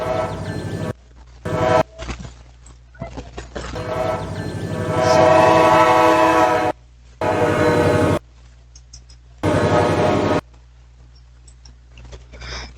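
A train rolls steadily past at close range, its horn sounding in long, loud blasts separated by gaps, with the rumble of the cars carrying on beneath.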